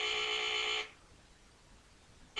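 A smoke alarm under test sounds a loud, piercing electronic tone for nearly a second, falls quiet, then starts blaring again at the end.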